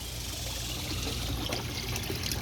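Water floods over and drains in a cheap DIY hydroponic flood-and-drain system filled with river rocks, giving a steady, close, continuous trickling and pouring rush that does not let up.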